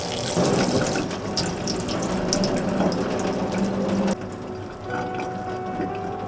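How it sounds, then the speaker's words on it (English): Water pours steadily from above onto a potted carnivorous plant, a dense, continuous splashing and trickling that runs close by and then drops in loudness partway through, with no talk. "Finally, water the plant from the top, and when the water from the bottom is clear"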